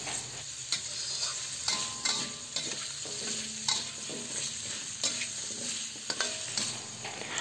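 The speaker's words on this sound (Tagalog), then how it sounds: "Ilagay na natin ang binalatan at hiniwang kalabasa. Ayan, haluin lang natin." Squash, peeled and sliced, is stirred into pork pinakbet in a pan, giving repeated scraping and clacking stirs over a steady close sizzle, with no talking.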